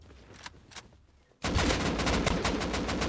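Rapid automatic gunfire in a video game raid on a base: a few faint shots at first, then a sudden loud, sustained stream of closely spaced bursts.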